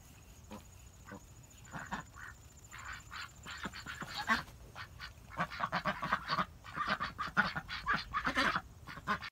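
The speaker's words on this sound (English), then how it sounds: "The ducks aren't sure if they want to come out." Ducks quack and honk in bursts, growing louder and more frequent toward the end, with no talking.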